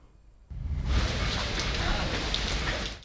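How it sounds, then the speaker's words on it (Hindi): Torrential rain in Peshawar pours down in a dense, steady roar that starts abruptly after a short quiet moment and continues loud and close throughout. "पेशावर में मूसलाधार बारिश से सड़कें नदी नालों में बदल के रह गई।"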